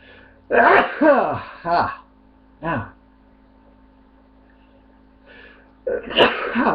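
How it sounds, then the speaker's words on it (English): Three sharp sneezes in quick succession, loud and close, followed by a short pause and a voice speaking. "It's always 3 sneezes."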